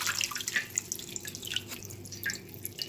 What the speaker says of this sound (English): I'm gonna rinse off all this now.